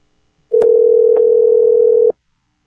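A telephone dial tone heard while calling a guest on a talk show: one steady, loud, clean tone holding for about a second and a half, then cutting off, alone.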